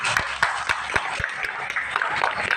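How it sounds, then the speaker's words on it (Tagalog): Guests at a child's birthday party clap for Cherry, a dense burst of close, lively applause with sharp individual hand claps over steady crowd noise. "Sino po ang gusto pumalakpak kay Cherry?"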